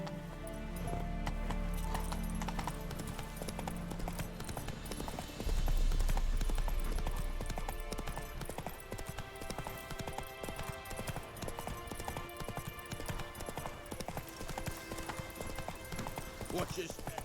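Roach the horse trotting in The Witcher 3, hooves clip-clopping in a steady rhythm that runs through the whole stretch, with a louder galloping patch midway and game sounds alongside.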